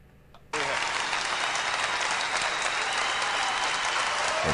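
Loud applause erupts suddenly as a celebrated world leader enters a room. The dense crowd clapping stays full and steady to the end.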